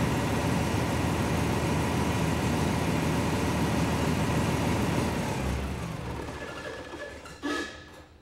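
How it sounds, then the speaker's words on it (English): A tractor engine idles with a steady, even rumble, then fades as it winds down, followed by a brief clunk near the end. "Take it back to an idle, and then we were able to stop the engine also."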